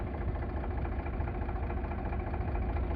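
An Eicher 368 tractor from 2014 idles steadily, its engine giving a low, even chugging rumble that holds constant and close without any other sounds.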